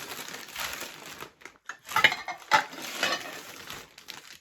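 Plates, one of them cracked, clink and knock together up close as a delivered parcel is unpacked, amid crinkly rustling of wrapping, in a few scattered clatters separated by short quiet gaps.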